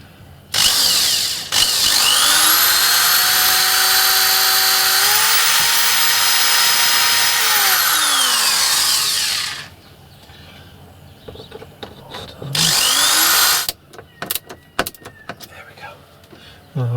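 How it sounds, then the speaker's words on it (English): An electric screwdriver driving screws into wood while fitting a campervan skylight: a loud, close whine runs for about eight seconds, then a shorter second burst, with brief knocks and handling noises between. "I'll finish that off with the electric screwdriver"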